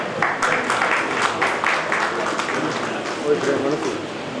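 A crowd at a memorial award ceremony applauds steadily for a few seconds, the clapping dense and fairly close, with a voice talking over it.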